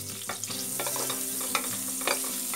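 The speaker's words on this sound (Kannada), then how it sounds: "ಬೆಣ್ಣೆ ಸ್ವಲ್ಪ ಕರಗಿದ್ಮೇಲೆ ನಾವು ಈ ಸ್ಪೈಸಸ್ ಎಲ್ಲ ಹಾಕ್ಕೊಂಡು ಬಿಡೋಣ." Spices sizzle in melted butter in a pan for potato and green pea curry, with a steady hiss and a few scraping stirs of a spoon, close up and without speech.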